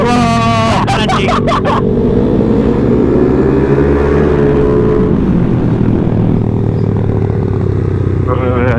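A car engine roars loud and close as the vehicle accelerates, its pitch climbing and holding steady, with people shouting and talking over it.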